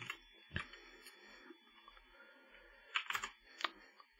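Keys tapped on a computer keyboard while editing a formula in Power Apps, close and quiet, scattered single presses and short bursts of clicks with pauses between.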